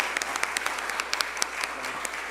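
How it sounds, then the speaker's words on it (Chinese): Congregation applause at a Sunday church service in Kaohsiung: dense, steady clapping from many hands fills the room for the whole stretch, with a few sharper individual claps standing out. "我们再次的拍手啊"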